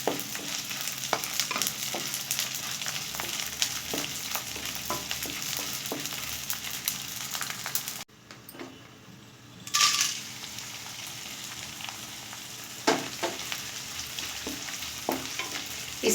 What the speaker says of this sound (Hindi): इसी तरह से हम सभी गोंद को अच्छी तरह से भून लेंगे